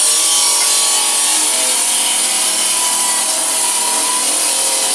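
A polishing machine grinds across marble slabs in a stone workshop, a steady, loud, continuous abrasive whine and rasp that holds unbroken throughout with no voices.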